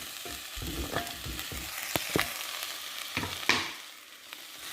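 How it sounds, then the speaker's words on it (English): Sweet potato and squash chunks tumbling into a soup pot over softened aromatics, with a few separate thuds and stirring scrapes over a soft steady sizzle, with no one talking. "go ahead, add your sweet potato and your squash, and then any broth"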